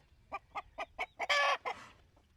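Homestead flock of hens with one rooster, a close series of about six evenly spaced loud clucks building into a longer harsh squawk, then a final cluck, with no voices.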